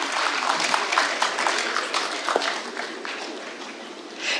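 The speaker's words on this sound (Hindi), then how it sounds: "जोरदार तालियों से एक बार उनका इस्तकबाल किया जाए।" Audience at a mushaira, an Urdu poetry gathering, applauding to welcome a poet, dense steady clapping from a crowd that carries on throughout and eases slightly toward the end.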